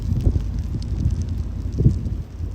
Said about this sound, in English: So now it is super windy,